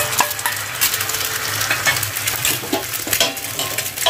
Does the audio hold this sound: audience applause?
no